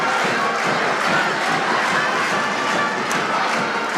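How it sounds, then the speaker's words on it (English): Large crowd at a high school basketball game between Hazard and Perry Central, a loud sustained roar of cheering and yelling that stays dense and steady throughout. "Boy, what a nice crowd we have from up at Perry County tonight."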